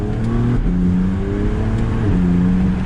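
A BMW Z4 35is accelerating on the road, its engine and exhaust giving a steady loud drone with shifting harmonic tones, recorded up close and continuous with no talking.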